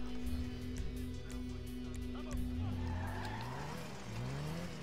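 In GTA V, a car on popped tires skids and squeals, with a steady engine drone and rising, wavering tire-squeal tones over in-game road noise.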